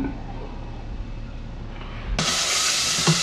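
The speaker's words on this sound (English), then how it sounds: "I'm searing the beef up" Beef sears in hot oil. A low hiss jumps abruptly into a loud, bright, steady sizzle partway through, close and continuous.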